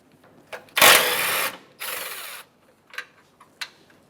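An 8 mm socket tool ratchets out the A/C condenser mounting pins on a 2007-2013 Acura MDX, giving two loud whirring bursts followed by a few short clicks, close up in a quiet garage.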